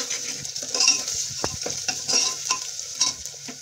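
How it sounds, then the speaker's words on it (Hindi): Ginger and onion sautéing in a pan for masala khichdi, a steady bright sizzle with soft stirring scrapes and light clicks of a utensil against the pan, close and continuous. "इसे भी थोड़ा सा भून लूंगी मैं अदरक को।"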